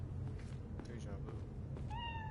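In the video game Cyberpunk 2077, a cat gives a short meow near the end, heard over a low background and faint voice-like sounds.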